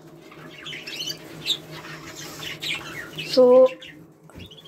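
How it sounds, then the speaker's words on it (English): Canaries in an aviary chirp in short, scattered tweets with brief wing flutters, and one louder call stands out near the end, while a voice speaks briefly. "these are 2 canaries in here"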